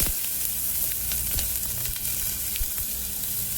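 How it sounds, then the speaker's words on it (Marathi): Mustard seeds, garlic and onion fry in hot oil for spinach dal khichdi, a steady close sizzle with scattered sharp pops and crackles throughout, no talking. "थोडीशी मोहरी त्यानंतर लसूण दोन पाटा जो आपण लसूण घेतला होता तो त्यानंतर कांदा"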